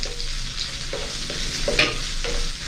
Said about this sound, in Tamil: வெங்காயம் பொன்னிறமாக வர வரும் வரைக்கும் இதை நாங்கள் வதக்கி எடுத்துக்கொள்ள முடியும்